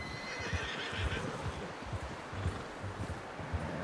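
A horse in the video game Red Dead Redemption 2 whinnies over soft hoof clip-clops and rustling, fairly quiet and close, with no speech during the sound.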